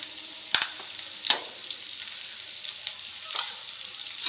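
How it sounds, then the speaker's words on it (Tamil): Raw banana sautéing in oil with chili powder makes a quiet, steady sizzle with a few sharp utensil taps against the pan, close but faint. "வதக்கிக்கலாம்."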